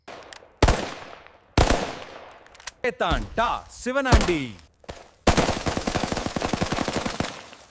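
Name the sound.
AK-47 firecracker bursting like machine gun fire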